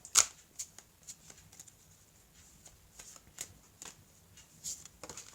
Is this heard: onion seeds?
no